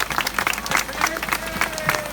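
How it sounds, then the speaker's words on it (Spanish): An audience in a public plaza applauds young performers at a Frente Amplio community event, a scattered patter of clapping with bursts of crowd noise and a voice talking over it. "bueno, vamos a aplaudirlos también"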